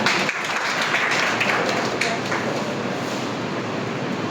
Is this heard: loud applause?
yes